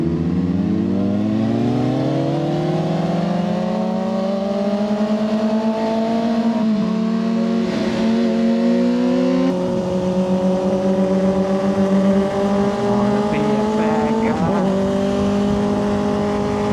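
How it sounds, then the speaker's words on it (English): A car engine rises steadily in pitch as it accelerates nearby, holding a strong droning tone before shifting and fading slightly, heard from roadside while riding a Kawasaki ZX6R motorcycle. "There's a car coming."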